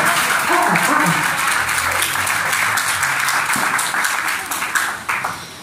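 Wedding guests in a church applaud the newly married couple during a nuptial ceremony, a scattered crowd clapping that thins toward the end with a few voices murmuring underneath.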